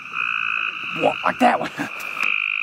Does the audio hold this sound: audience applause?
no